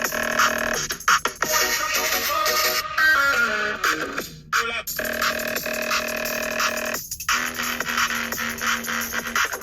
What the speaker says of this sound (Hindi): ये वाला फोन भाई स्टीरियो स्पीकर्स लेके आता है